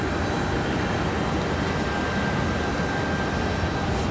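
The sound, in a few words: CRJ jet departing Raleigh Durham airport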